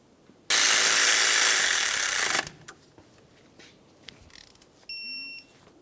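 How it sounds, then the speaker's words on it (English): A power tool tightens the wheel hub mounting bolt on a Ford Transit Connect in a loud two-second ratcheting burst, followed by quieter clicks and a faint whine. "You're going to want to bottom this out and then torque it to 80"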